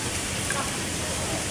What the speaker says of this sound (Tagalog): Kusog ng ulan oh.